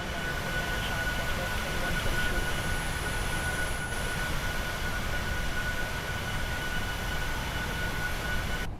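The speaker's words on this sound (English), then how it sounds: "I gotta say, the engine sounds are pretty good." Boeing 737-800 engines in Microsoft Flight Simulator 2024 produce a constant broadband roar with a faint thin whine on top, steady and unbroken from start to finish.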